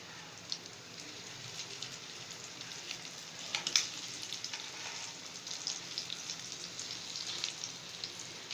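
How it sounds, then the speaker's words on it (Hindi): Potato cutlets coated in breadcrumbs fry gently in a pan over low flame, giving a soft, continuous crackling sizzle with occasional small pops, fairly faint and without voices. "लो फ्लेम पे आपने इसको पकाना है ताकि ये ब्रेड क्रम्स जो हैं ये ऊपर से जल ना जाएं।"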